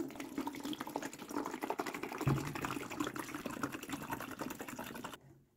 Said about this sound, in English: fill up with water